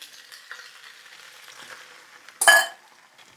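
Sauce hits a pan of Japanese-style meat on high heat and bursts into a loud, sharp sizzle, rising over the steady crackle of frying before settling back down.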